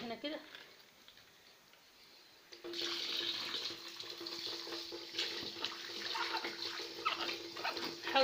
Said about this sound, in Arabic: حاولي برضو تنزلي الميه جوه الفرخه كده، تخلي الميه تنزل جواها